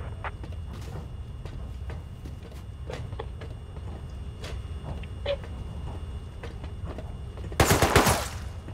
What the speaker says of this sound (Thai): ยิงจากไหนวะเนี่ย